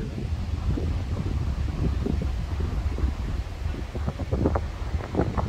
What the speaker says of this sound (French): Ouh la rafale.